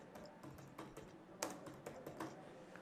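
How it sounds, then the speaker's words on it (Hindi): Keys tapped on a computer keyboard entering a password, a quick irregular run of close, crisp clicks with no talking. "मैं इसे सिंपली 1 2 3 पासवर्ड ले लेता हूँ और यहाँ 1 2 3 से टाइप करता हूँ"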